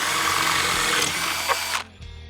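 A power drill whines steadily at high speed for about two seconds, boring through a steel flat bar, then cuts off abruptly, leaving a faint hum.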